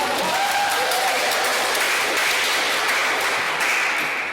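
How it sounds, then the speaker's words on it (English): Audience applause at a debate event, a dense, steady wash of clapping that holds at an even level for the full stretch, with a faint voice briefly audible near the start. "Can we get a clap for that, please?"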